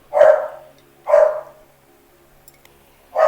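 A dog barks three times, close by, in single sharp barks spaced about a second apart, with quiet pauses between.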